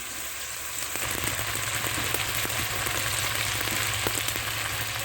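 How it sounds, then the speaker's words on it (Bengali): Pangas fish head being sautéed in oil with a little water in a pan, giving a steady close sizzle with crackling pops throughout and no talk. "দেখেন কীভাবে কষিয়ে নিচ্ছি"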